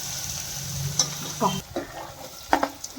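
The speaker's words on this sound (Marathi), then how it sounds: "आता त्यामध्ये आडवा चिरलेला कांदा आपल्याला टाकायचा आहे" Sliced onions frying in hot oil with curry leaves for Kolhapuri misal, a steady close sizzle with a few scraping stirs and light utensil clinks, no voices.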